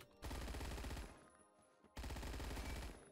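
Two rapid-fire bursts from a PPSh-41 submachine gun in the Roblox shooter Phantom Forces, each about a second long, loud and close, separated by a short pause with no talking.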